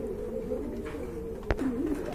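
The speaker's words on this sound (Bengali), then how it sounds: "এখানে কিন্তু দেখেন এক জোড়া জার্মান বিউটি কবুতর রয়েছে" A pair of all-black German Beauty pigeons at a seller's stall coo in a steady, low warbling murmur, with a sharp click partway through.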